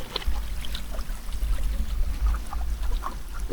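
River water flowing steadily at night beside a riverbank, a continuous low rushing wash with faint trickling detail, loud and close with no talk.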